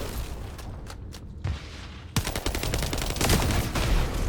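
Rapid gunfire from the video game The First Descendant during the Gluttony boss fight on Hard, a dense steady stream of shots that grows much louder midway and keeps going without pause.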